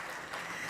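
Audience applause at a Ministry of Environment, Forestry and Tourism government session, a brief dense wash of clapping heard faintly at a distance.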